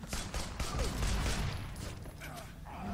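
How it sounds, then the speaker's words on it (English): Basic assault rifle with a flashlight firing in a video game, a dense burst of rapid gunfire with mechanical clatter, loud and close, easing off toward the end. "And now I have an assault rifle."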